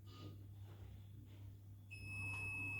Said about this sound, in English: the motor's now saying, okay, I'm in learning mode, it's in a continuous beep